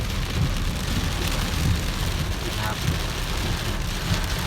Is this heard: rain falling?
yes